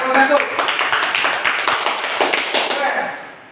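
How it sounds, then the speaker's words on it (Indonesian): A classroom of students claps hands during a math lesson, a brisk burst of rhythmic clapping with voices mixed in, fading toward the end. "kita lihat tepuk tangan buat nomor 1"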